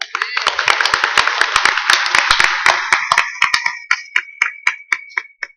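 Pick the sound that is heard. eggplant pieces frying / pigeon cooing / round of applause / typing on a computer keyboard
round of applause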